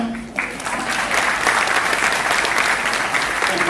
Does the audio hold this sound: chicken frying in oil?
no